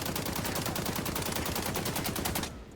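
An AK rifle in the shooter game XDefiant fires a rapid, evenly spaced full-auto burst, loud and close, that runs for over two seconds before stopping abruptly and leaving a short tail.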